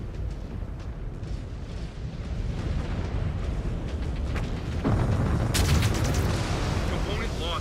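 Mech weapons fire in MechWarrior 5: Clans, a heavy continuous roar of booming blasts and rumbling impacts with sharp bursts building toward the end, amid battle noise.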